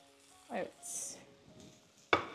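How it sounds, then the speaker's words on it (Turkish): Onions sautéing with turmeric in a pan give a quiet sizzle, with a brief stir-like scrape near the start and a sharp clatter of a utensil against the pan near the end. "Soğanı kavurmaya devam ediyoruz."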